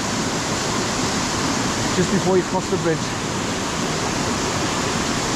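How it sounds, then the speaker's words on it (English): Waterfall at Harmby heard from the top, a steady loud broadband rush of falling water filling the whole scene, with a brief voice speaking partway through. "that's looking down from the top of the waterfall"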